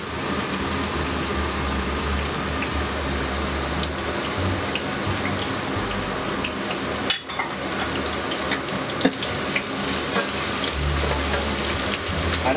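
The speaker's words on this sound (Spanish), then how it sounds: "Y aquí es donde empezamos a hacer el refrito" Garlic and onion sizzle steadily in hot oil as the base for a sofrito, a continuous dense crackle with occasional stirring clicks and no talking.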